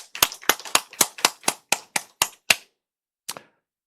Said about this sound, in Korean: 그 예수님께 감사와 찬양과 영광의 박수를 올려드립니다.